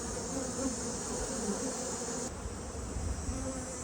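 Agitated honeybees buzz steadily in an opened hive during an inspection. The hum is close, loud and continuous, with no talking.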